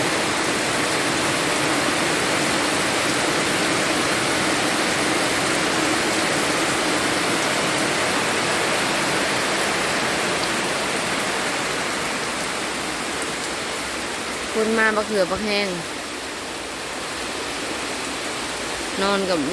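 Steady rain falls around a rural Thai house as a continuous broadband hiss at even loudness. Someone speaks briefly near the end, over the rain.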